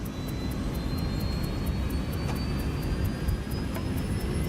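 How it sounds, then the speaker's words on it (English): Jet engines of a DC-8 airliner roar steadily during the takeoff roll, a loud, dense and unbroken rumble with a rising whine threaded through it, heard alone without talk. "As the nose wheel leaves the ground, the DC-8 pitches upward more steeply than expected."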